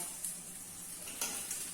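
Faint, steady sizzling of chicken cutlets frying in a preheated pan, with a couple of brief louder crackles and light clinks of a utensil.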